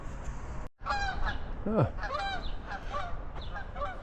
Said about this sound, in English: there goes my geese.